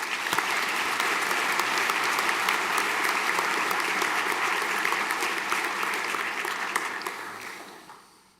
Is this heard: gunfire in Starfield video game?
no